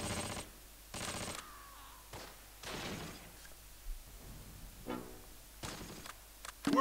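Bursts of heavy gunfire in the World War II strategy game Close Combat: Wacht Am Rhein, several loud crackling volleys spaced a second or two apart, with fainter shots and rumbles in between.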